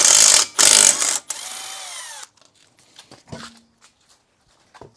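A power impact tool removing lug nuts from the wheel of a BMW E36 M3 in a garage, with two loud close bursts of rattling, then a whirring spin-down, followed by quiet clinks and handling noises.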